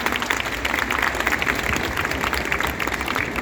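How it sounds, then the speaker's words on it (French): An audience at a live interview event applauds for a few seconds, a dense, steady patter of clapping hands with faint crowd murmur beneath it. "On applaudit s'il vous plaît."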